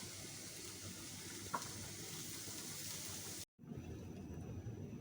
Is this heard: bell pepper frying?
yes